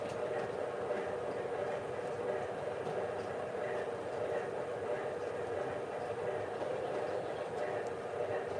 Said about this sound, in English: There's our smoking caboose.